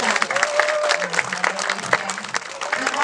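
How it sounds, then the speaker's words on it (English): Crowd applauding at a sea lion show, dense sustained clapping with cheers mixed in, fairly loud and steady throughout, with voices faintly audible beneath. "please give him a big round of applause"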